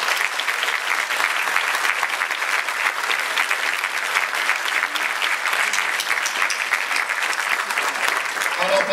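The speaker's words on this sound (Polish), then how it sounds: "Przywitajmy gorącymi oklaskami." A loud, dense wave of warm applause welcomes an honorary guest at a town event in Ostrów Wielkopolski. It holds steady and unbroken for several seconds, with a murmur of voices underneath.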